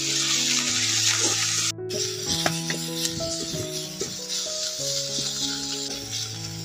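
Onion, chopped chili, ginger-garlic paste and turmeric fry in a pan for Medinipur-style chop, a continuous hiss and sizzle that runs steadily under background music.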